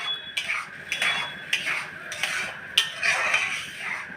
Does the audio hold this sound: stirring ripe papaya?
yes